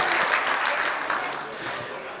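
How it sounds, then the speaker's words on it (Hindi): Applause from the audience at a mushaira poetry recital, a steady dense burst of clapping that tapers slightly over a couple of seconds, with no speech. "तालियां बजाएं अगर आपने"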